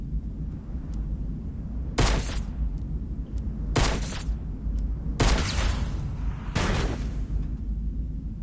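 Shotgun blasts in the video game Fortnite: four loud, sharp reports spaced a second or two apart, ringing over a steady low in-game rumble.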